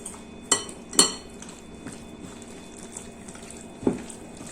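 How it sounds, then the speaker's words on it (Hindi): Chicken pieces being mixed by hand with salt, lemon juice, red chili powder and oil in a bowl: three sharp clinks of utensil against dish over a quiet, soft background of stirring. "अब इसको हम एक साथ अच्छे से मिला लेंगे।"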